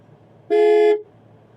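A single car horn blast of about half a second from a Mahindra Bolero Neo during a beginner driving lesson, loud and close over a quiet background.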